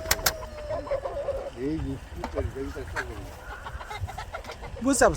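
Chickens cluck in short, repeated bursts nearby, mixed with background noise and a person talking.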